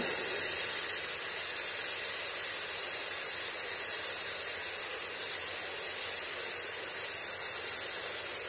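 A masala mixture for fish curry fries in hot oil, giving off a loud, steady, close hissing sizzle that holds without a break throughout.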